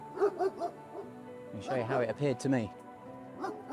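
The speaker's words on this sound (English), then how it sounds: "you'll have to excuse the dogs, they're right next to the helicopters." Dogs barking and yelping near helicopters at an airport, several bursts of close barks mixed with whimpers, partly under a person talking.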